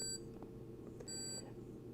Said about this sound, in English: it activates, it beeps, you run away and wait for it to blow up